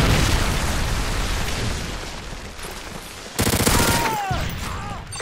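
Explosive impacts and dense gunfire from a Modern Warfare 3 online hardcore match during a predator missile strike, a continuous loud barrage with a sharper burst of blasts near the end.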